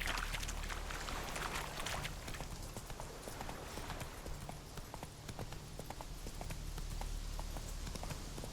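Horse hooves clip-clop steadily in The Witcher 3 video game, a continuous rhythmic trot over a low rumbling game background.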